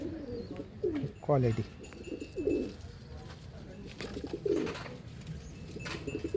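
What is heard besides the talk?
pigeons cooing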